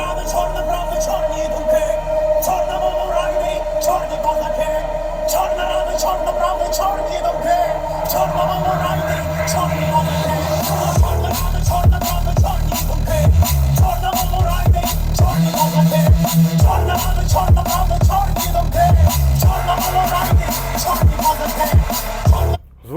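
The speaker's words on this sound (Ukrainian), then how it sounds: "давайте зараз послухаємо, як у нас звучить пісня" A song streamed from Apple Music plays through the speakers of a BMW Z4 E89 via CarPlay, with a steady beat and fuller bass entering partway through, continuous for the whole stretch.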